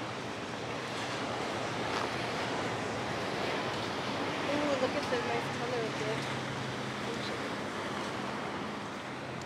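Steady, broad ocean surf at Windansea Beach in San Diego, California, a continuous wash of waves with some wind noise, at moderate loudness, with no clear talk.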